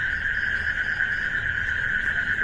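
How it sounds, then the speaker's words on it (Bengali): A steady, high insect trill of crickets chirping drones continuously at a moderate level against a quiet midnight backdrop near woods. "দেখছেন ঝিঝি পোকার ডাক"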